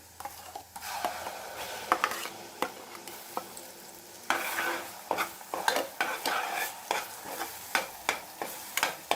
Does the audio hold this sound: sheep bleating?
no